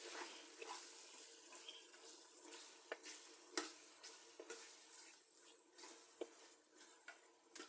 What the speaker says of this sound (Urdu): اب میں اس میں ڈالوں گی بیف میں نے لیا ہے ہڈی والا ½ kg، اور بیف کی اب بنائی کروں گی۔